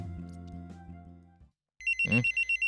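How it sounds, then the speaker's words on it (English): A phone ringtone in a Doki Doki Literature Club mod game bursts in after a short pause following music, a bright electronic trill pulsing in rapid repeated beeps, loud and close. "The sound of my phone going off sends a shiver down my spine."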